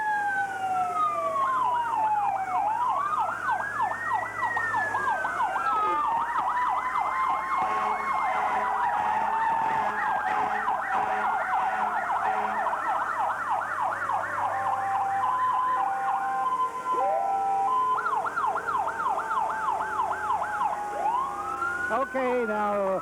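Murphysboro Sheriff's car siren leading the 1982 Apple Festival parade, loud wailing and yelping tones sweeping up and down continuously, with voices and crowd noise underneath.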